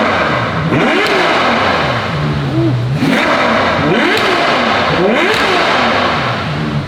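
Stock Ferrari 812 Superfast V12 revving loudly and close, with rising and falling engine pitch in repeated blips and sustained pulls, no talk over it.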